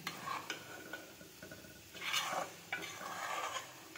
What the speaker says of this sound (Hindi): पकौड़े मेरे रह गए, मैं निकाल रही हूँ पकौड़े।